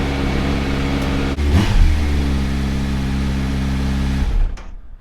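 A 2017 Kawasaki Z900 motorcycle engine warms up after a cold start in freezing weather, idling loud and close with a steady harmonic hum, one brief throttle blip early on, then cutting off near the end.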